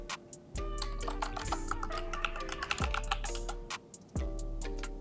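Rapid keystrokes on a computer keyboard, a close run of light clicking taps entering a password, with brief pauses between bursts.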